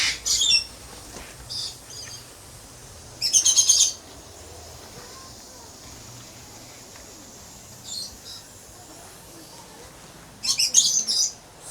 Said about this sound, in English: Silver pheasant.